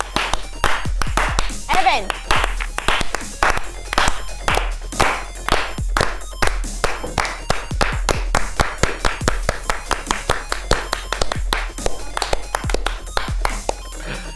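Guests on a gaming comedy show are welcomed with sparse, uneven hand claps from a small group while the host keeps talking over them. The claps come as sharp individual snaps rather than a full round of applause.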